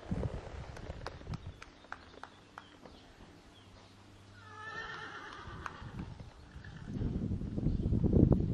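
Horse hooves clip-clop in a steady rhythm, with a neigh partway through and heavier hoofbeats building near the end.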